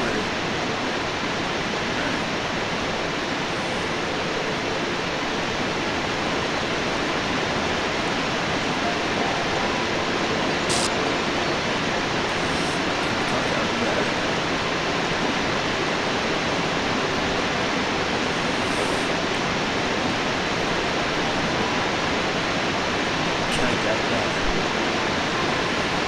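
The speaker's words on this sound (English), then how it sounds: "If I can climb behind these waterfalls" A waterfall in the video game The Talos Principle, a dense, loud, unbroken roar of rushing water filling the whole space.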